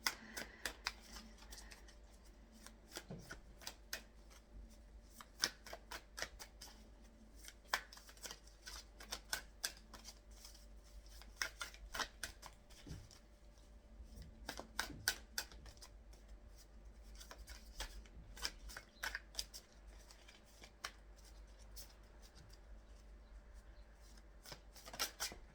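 A deck of tarot cards being shuffled over and over, with crisp riffling bursts and scattered snapping card flicks throughout, fairly close and soft, with no talking.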